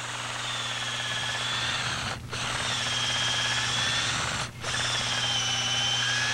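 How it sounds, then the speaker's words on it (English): A quarter-inch bit in a power drill bores into a tree trunk, a steady close whine with two brief dips where the motor eases off before resuming. "we're just going to drill a quarter inch diameter hole into the tree"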